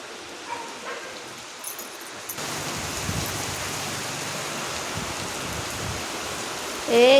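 Steady rain at night hisses evenly on a surface, quiet and continuous after a short hush, with a brief louder burst right at the end.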